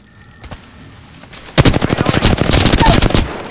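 Automatic gunfire in the Apex Legends video game rips out as a loud, sustained rapid burst of closely spaced shots lasting about two seconds, preceded by a few lighter clicks and quieter moments.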